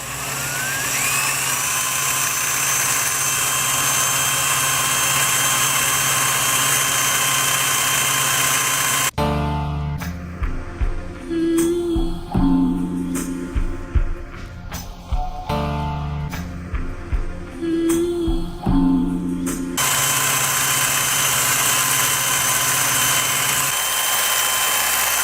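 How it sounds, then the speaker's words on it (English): A drill-driven mixer whirs loudly inside a can of Plasti Dip paint, a steady high motor whine that drops out midway, leaving rattling and stirring noises, then returns. "My mixer's all the way at the bottom of the can."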